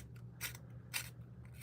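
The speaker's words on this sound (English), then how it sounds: "Before I start, I'm going to sharpen this new one." A pencil is sharpened in a dual sharpener, two short bursts of dry shaving and scraping over a low steady hum, faint and close.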